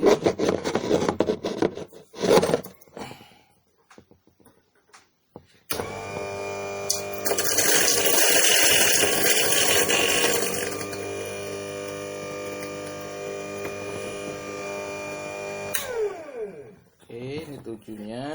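An H&L HL 600N electric coffee grinder, set to grind size 7, whirs loudly and steadily for about ten seconds, then carries on at a slightly lower level. Someone talks briefly before it starts.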